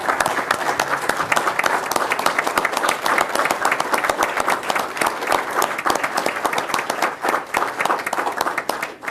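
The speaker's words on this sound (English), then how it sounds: "if we could please just give her a round of applause." Sustained round of applause from the audience at a Chautauqua County Legislature meeting, many hands clapping densely and steadily throughout, fairly loud and close with no talk over it.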